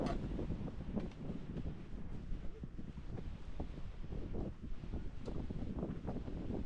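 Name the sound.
strong wind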